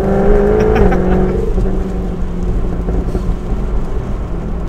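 A Jaguar F-Type V8 S engine revs loudly in the rain, its pitch climbing and then dropping as it settles into a deep, rumbling roar.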